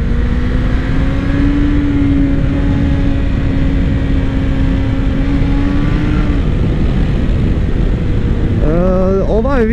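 A Suzuki GSX-F 600 Katana motorcycle being ridden through short bends, a loud droning engine note under heavy rushing wind, steady throughout with a shift in pitch near the end.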